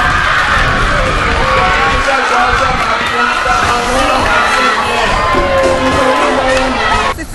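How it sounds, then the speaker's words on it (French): Students just past their first-cycle exams let out deafening cries of joy, a dense, loud wall of shrieking and cheering voices that stays at full intensity throughout. "Seuls les cris de joie assourdissants traduisaient le ouf de soulagement de ces derniers."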